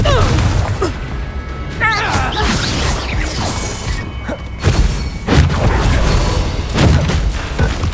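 Explosive Bombarda and Confringo spell blasts in Hogwarts Legacy on PS5. Heavy booms, crashes and thuds burst in quick succession amid combat clatter, with voices mixed in.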